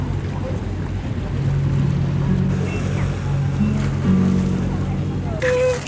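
A ferry crossing the sea near Malta on the way to Comino, its low engine rumble and rushing water and wind steady throughout, with music and voices faintly mixed in.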